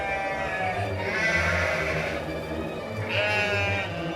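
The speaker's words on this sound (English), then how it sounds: "The goats followed them." Goats bleat in a mountain setting, one long wavering call followed by another, loud and close, with no talk over them.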